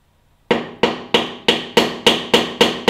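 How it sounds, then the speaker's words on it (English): A hammer strikes a screwdriver to bend the fender bolt tabs on a Harley-Davidson front fork, eight sharp, evenly spaced metallic taps after a short silence, loud and close with ringing decay. "all he's got is a screwdriver and a hammer. And he's gonna bend those tabs out."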